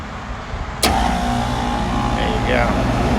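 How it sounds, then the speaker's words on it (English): A Trane rooftop HVAC unit's compressor and condenser fan kick on abruptly after a new 15 MFD capacitor is fitted, jumping into a loud, steady mechanical hum with a sustained tonal whine. "Compressor, we got fan, good rotation, and we're all set here."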